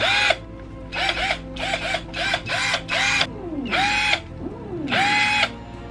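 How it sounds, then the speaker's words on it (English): A power drill whirs in repeated bursts of varying length as a neighbour drills through a wall, the motor rising and falling in pitch with each trigger pull, loud and close with short pauses between. "the neighbour is drilling through the wall"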